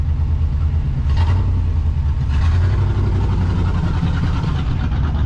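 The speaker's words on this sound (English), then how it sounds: "Donnie's driving the old Chevy" An old Chevy car's engine gives a steady, close, low rumble throughout, with faint hiss above it and no voices.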